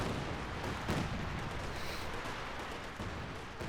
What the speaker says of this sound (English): Katusha opening fire on this general vicinity.